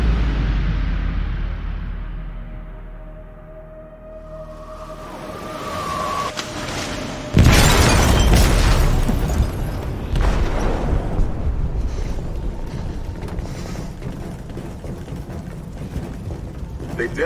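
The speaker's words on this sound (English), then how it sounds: "They detonated an explosive in the hold." Explosive detonating in a ship's hold in the video game Detroit: Become Human, a sudden loud boom after a quieter, building stretch, then a long rumbling roar with sirens wailing beneath.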